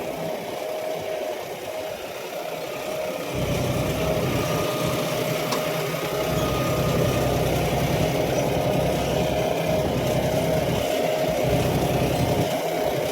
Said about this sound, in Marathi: ट्रॅक्टर आहे 52 गिअर प्रो